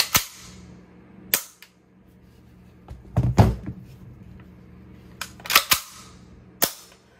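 An HK SP5 and a PTR MP5 clone pistol-caliber firearm fire single shots, about six or seven sharp loud reports spaced irregularly, with faint mechanical clicks and thuds between them.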